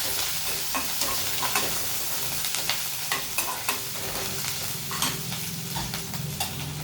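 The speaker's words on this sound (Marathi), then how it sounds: "घालू जिरं त्यामध्ये घालूया लसूण लसूण थोडासा लालसर करायचा आहे म्हणून पहिला टाकलं" Cumin and garlic fry in hot oil with a steady, close sizzle. Frequent spoon scrapes and taps against the pan come through as the spices are stirred.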